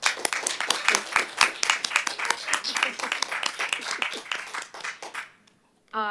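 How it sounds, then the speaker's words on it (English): A room of people at a local council meeting applauds, dense close hand-clapping running for about five seconds and then stopping abruptly, with a voice speaking as the clapping fades. "Can we all give Julian a clap, please?"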